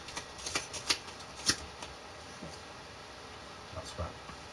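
Playing cards are picked and counted in a run of soft, close flicks and taps, a few louder slaps among them, ending with quieter handling.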